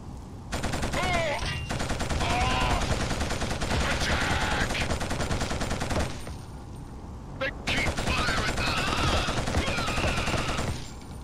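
Gunfire in the Killzone video game, dense automatic bursts rattling almost continuously at close range, with two short lulls before the shooting resumes just as loudly.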